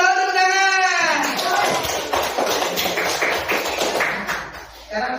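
A primary-school class claps hands together during a micro-teaching lesson, a burst of dense, fairly loud clapping that starts after a spoken voice and runs for several seconds before a voice returns.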